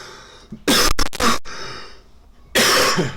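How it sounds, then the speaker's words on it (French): Three loud, close coughs, two in quick succession and one after a pause, with quiet between. "Pardon, je tousse."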